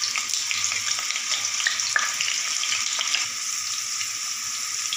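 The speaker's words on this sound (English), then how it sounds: "I added all the vegetables one by one and get deep fry all the vegetables." Potato and other vegetables deep frying in hot oil, a continuous crackling sizzle with scattered pops, steady and close.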